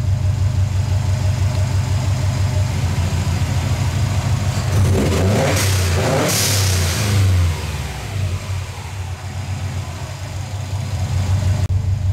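A car engine idling steadily, then revved once, with a sharp airy whoosh from a GFB blow-off valve venting as the revs drop back toward idle, continuous and close throughout.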